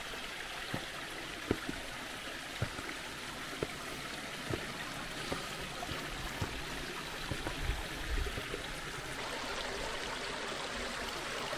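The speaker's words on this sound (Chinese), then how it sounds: "那溪水特别清，" A clear mountain spring stream in a hillside village in Taihu County, Anhui, rushes and babbles in a steady, even wash of water at close range, with no voices.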